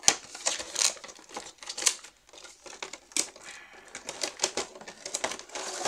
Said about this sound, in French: Je vais ouvrir les deux côtés directement pour pouvoir ensuite écraser la boîte.